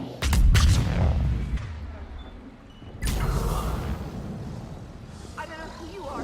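Gunfire and heavy blasts erupt in a sci-fi action video game, loud booming bursts at the start and again midway, with a voice speaking over the fighting.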